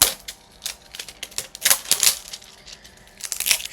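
Plastic wrapping being torn and crinkled off a package holding a music EP, close and fairly quiet, in several sharp bursts of rustling and crackling with short pauses between.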